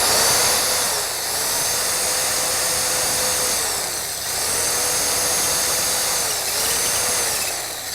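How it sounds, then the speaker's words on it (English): A power drill bores into a lock cylinder with a loud, continuous high-pitched whine, its pitch dipping slightly in several slow cycles as the bit bites into the metal, with no voices. "the drill bit in, and drill."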